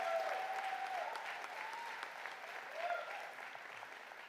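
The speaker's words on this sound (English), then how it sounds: "Let's give her a round of applause to our distinguished alumna." An audience at a winter commencement ceremony applauds for an alumna, sustained clapping from a large crowd that slowly tapers off.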